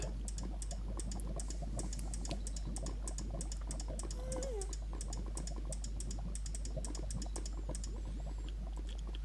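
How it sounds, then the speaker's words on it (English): Rapid, steady mouse clicking while playing a survival game, a dense run of small ticks that continues the whole time over a low constant hum, with no voice over it. "So we're just going to kind of click like mad."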